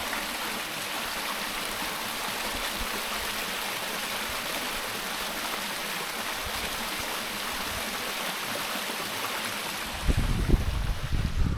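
Water flows steadily in a stream as a continuous broadband rush, even and unbroken, with low rumbling buffeting toward the end.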